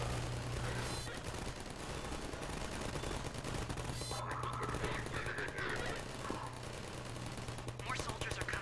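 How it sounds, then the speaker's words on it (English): Automated turrets in the video game Half-Life 2 firing at soldiers, rapid continuous machine-gun bursts rattling throughout, mixed with game noise and a brief voice. "my fucking turrets are holding that off like a boss"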